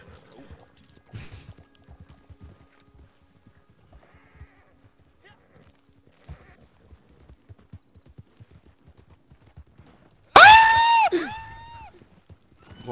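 A horse in a video game lets out one loud, ringing neigh near the end, after a long quiet stretch with only faint scattered clicks and taps.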